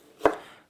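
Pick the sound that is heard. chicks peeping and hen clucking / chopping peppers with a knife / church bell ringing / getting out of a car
chopping peppers with a knife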